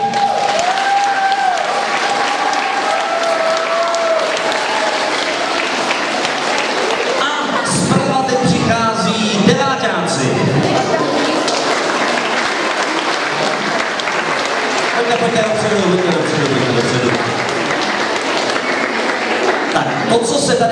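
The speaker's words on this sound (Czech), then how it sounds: "potlesk pro páťáky" Loud, sustained applause from a large audience at a school show as fifth-graders come on stage, filling the whole stretch, steady clapping with some cheering and voices mixed in.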